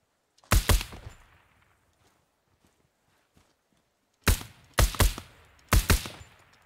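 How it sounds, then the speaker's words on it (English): Gunfire in the tactical shooter Ground Branch: one sharp shot burst near the start, then three loud, evenly spaced reports close together after a quiet gap, with faint clatter between. "Where was I getting shot from?"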